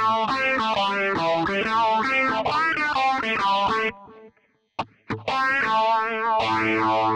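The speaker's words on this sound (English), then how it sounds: "I actually think that the tape echo in this is really nice." Electric guitar played through a Yamaha THR10C practice amp with tape echo, strummed chords and bright repeating notes smeared by echo and modulation, briefly dropping out before resuming loud and close.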